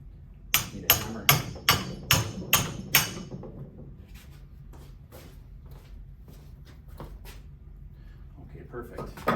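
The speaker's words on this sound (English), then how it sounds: "Need a hammer." A hammer taps a tone wheel onto a meter cartridge in about seven sharp, evenly spaced metallic strikes, followed by fainter scattered light taps and handling noise.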